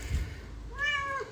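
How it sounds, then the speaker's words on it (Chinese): A stray kitten gives one clear, drawn-out meow at close range, lasting about half a second, with quiet room noise before and after. "发现一只流浪小猫"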